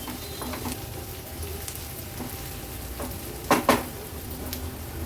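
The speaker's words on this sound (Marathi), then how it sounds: "हळद देखील छानशी अशी परतून घ्यायची आहे।" A steady, low sizzle of turmeric frying in a pan over a medium flame, with a couple of soft scraping stirs near the end.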